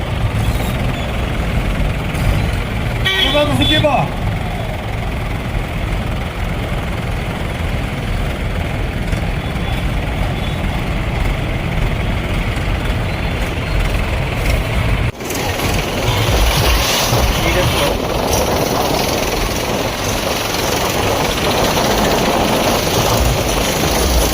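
A rally procession of a hundred tractors rumbles along, with heavy low engine drone and idling chug running throughout and a louder, busier passage of engine noise in the second half.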